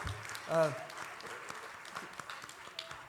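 An audience applauds the organizing team at the Dhaka Global Dialogue conference. Dense, steady clapping fills the room, and a voice rises briefly over it near the start.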